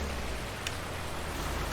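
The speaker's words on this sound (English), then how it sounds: "Here comes the rain." Rain in Farming Simulator 19 falls as a steady, even hiss of drops with a low rumble underneath, continuous and moderately loud with no voices.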